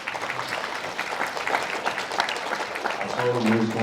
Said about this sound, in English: Let's give these volunteers a big hand clap.